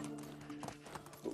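Donkey hooves clip-clopping in the video game Medieval Dynasty, a faint string of quick soft taps under quiet background sound.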